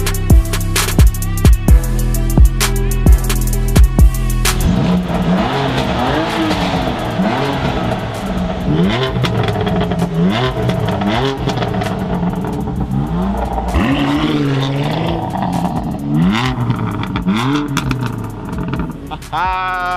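A BMW M4 CS with an Akrapovic exhaust fires up with a few sharp, loud blips, then revs up and down repeatedly, rising and falling close by with crackles between the pulls.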